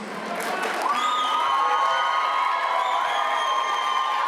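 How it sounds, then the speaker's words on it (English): Loud crowd noise at a folk dance anniversary concert, with cheering, whoops and clapping blending into a sustained roar, plus a bright whistle-like tone running through most of it. "Round of applause, please."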